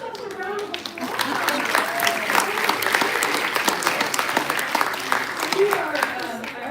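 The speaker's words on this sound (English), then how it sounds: "Give yourself a round of applause." A town hall crowd bursts into sustained applause, thick clapping swelling after the first second and holding strong, with scattered cheers and voices mixed in.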